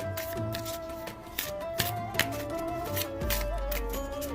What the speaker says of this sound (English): you're going to take the deck of standard-ish 52 cards, and you're going to give them a shuffle.